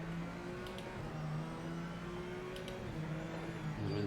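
Race car engines droning in Project Motor Racing during an opening lap, a steady layered whine with shifting pitch and a rise near the end, fairly quiet and even.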